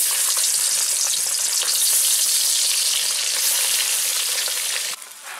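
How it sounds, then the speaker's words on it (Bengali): Golda prawns coated in salt, turmeric and chili powder fry in hot oil in a pan, giving a loud, dense, continuous crackling sizzle that softens slightly near the end, with no voices. "এবার আমি চিংড়িগুলো ভেজে নিই।"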